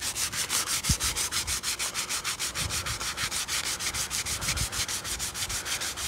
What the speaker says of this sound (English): Just so I don't go real aggressive, I'm using a 220 grit